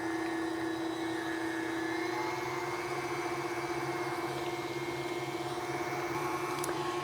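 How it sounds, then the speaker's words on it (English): A stand mixer runs at medium-high speed beating a cream cheese and butter frosting mixture, giving a steady, even motor hum that carries on alone for the whole stretch. "you want to put that on your stand mixer on about medium high to medium"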